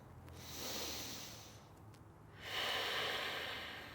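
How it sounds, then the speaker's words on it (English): Deep breathing during a standing yoga pose, with a long inhale followed by a fuller, louder exhale, close and alone. "Take one more breath here."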